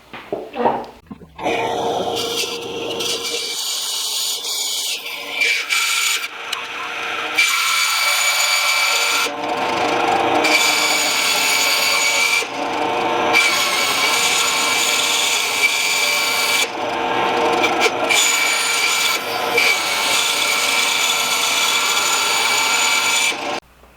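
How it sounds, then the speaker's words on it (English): A bandsaw cuts out a pair of stacked knife handle scales during stock-removal knife making, a loud, steady high-pitched whine of the blade through material that runs almost continuously with a few short pauses and no talk. "walk over to the bandsaw, and cut it out"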